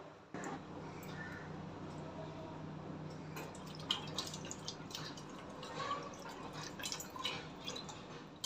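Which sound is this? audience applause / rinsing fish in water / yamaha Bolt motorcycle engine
rinsing fish in water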